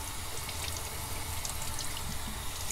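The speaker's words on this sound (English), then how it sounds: "Probably run a little hot water." Hot water runs from a tap in a steady, hissing stream while face masks are disinfected, quiet and continuous with no talking.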